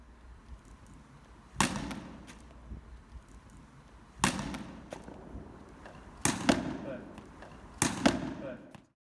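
Cricket bat striking a ball in back foot shot drills, heard as four sharp, loud cracks spaced a couple of seconds apart, each ringing briefly over a faint background.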